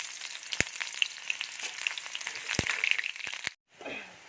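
Chopped onion dropped into hot oil with dried red chillies sputters and crackles sharply up close, a busy sizzle with sharp pops that stops suddenly before a brief muffled rustle.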